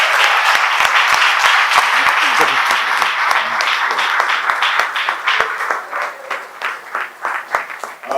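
A church congregation applauds heartily during a missionary conference, thick clapping that gradually thins into scattered individual claps with voices calling out in the background.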